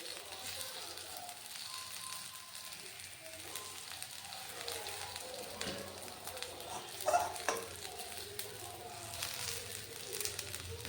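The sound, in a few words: papaya fritters frying in mustard oil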